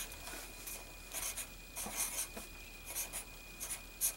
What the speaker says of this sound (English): handwriting is fun too, because it really is your hands writing it